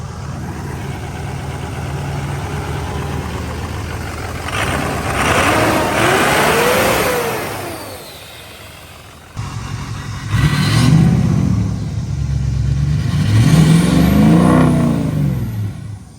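A Ford 6.0 Power Stroke diesel pickup truck engine runs steadily, rumbling loud and close, with a lull mid-way before rising again in a couple of revs.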